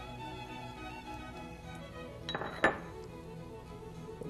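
Frittata ingredients go into a bowl: a quiet kitchen backdrop, then a short cluster of clinks and a sharp knock of utensils against dishes near the middle, and a faint hum after.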